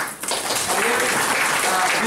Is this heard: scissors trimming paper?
no